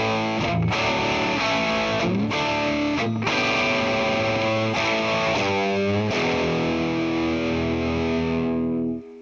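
Electric guitar played through a Fender Super Sonic amp with the first gain set very high, a loud, thick overdriven tone of sustained distorted chords and riffs, ringing out alone before cutting off.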